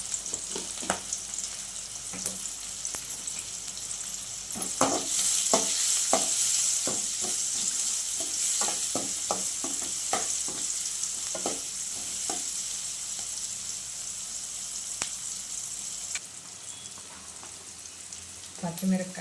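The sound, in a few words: onions frying with salt in a pan, Andhra chicken pulusu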